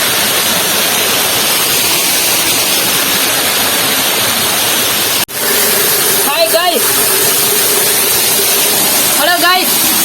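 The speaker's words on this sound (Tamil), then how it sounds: "இதுதான் ஃபால்ஸ்." Roaring, steady wash of a waterfall heard from a spot inside the falls during a trek, loud and continuous with a brief dropout midway, while voices talk over the rushing water.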